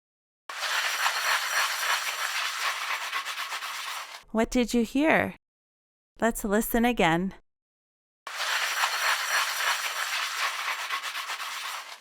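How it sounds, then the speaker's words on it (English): Dishes being washed in a kitchen sink give a steady hissing, splashing wash of running water, heard in two long stretches separated by a short spoken passage. "Someone's washing the dishes, making everything nice and clean."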